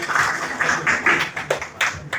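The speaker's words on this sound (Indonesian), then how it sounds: "tepuk tangan untuk kita semua" A crowd at a Batak youth rally backing gubernatorial candidate Nikson Nababan claps in steady, moderately loud bursts with short gaps, close and without speech over it.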